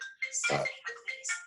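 A mobile phone ringtone sounds during a lecture, a short burst of bright, warbling electronic tones in a few quick pulses, faint and alone without talk.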